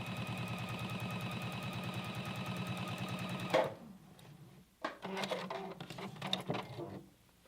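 A sewing machine runs steadily, stay stitching around the neckline of a garment, then stops abruptly and is followed by a few soft handling clicks and rustles of fabric.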